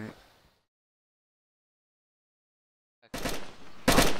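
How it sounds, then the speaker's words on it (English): Gunfire in DayZ Standalone: after near silence, a few loud, sharp shots crack out in quick succession, close and abrupt. "Shots."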